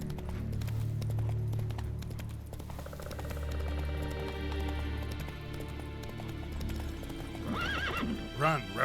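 Hooves of the horse Roach galloping in The Witcher 3 video game, a fast clip-clop rhythm over game ambience, ending with a loud neigh and whinny near the close, with talk over it.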